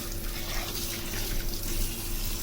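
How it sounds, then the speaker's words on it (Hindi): Water streams steadily over soaked chana dal in a pot, a continuous close splashing pour with no voices. "और ऊपर से थोड़ा फिर पानी जो है ना उसके ऊपर डाल देंगे"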